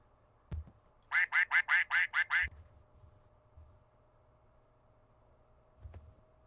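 A quick string of seven evenly spaced duck quacks triggered from a soundboard, loud and close, with faint thumps before and after and a long quiet tail.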